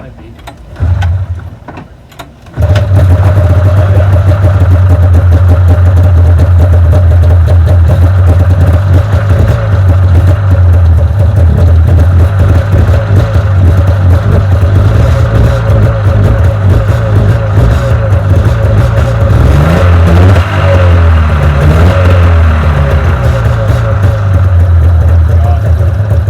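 A Kawasaki KZ motorcycle fitted with a snowmobile engine starts after a brief sputter and settles into a loud, steady, buzzy run close by, with slight rev changes near the end.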